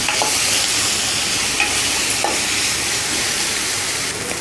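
Crushed garlic sautéing in a pan for a bottle gourd and toor dal koottu, a continuous loud sizzle and hiss with occasional scraping stirs, no voices.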